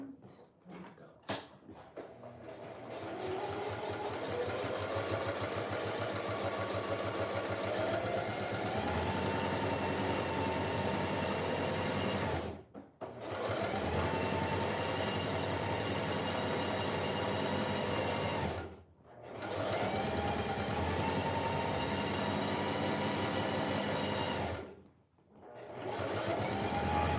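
A sewing machine stitches a DIY journal cover in three long continuous runs, each broken by a brief pause, a close, steady mechanical whir with no talk.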